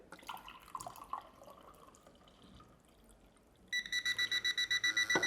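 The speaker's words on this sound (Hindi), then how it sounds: "मैंने इसको इस तरह ग्लास में लगाया और इसमें जैसे मैं पानी फिल करता हूँ" Water poured from one glass into another glass fitted with a liquid level indicator, trickling quietly, then a rapid series of loud electronic beeps as the water reaches the level.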